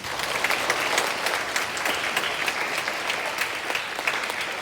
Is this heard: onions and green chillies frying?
no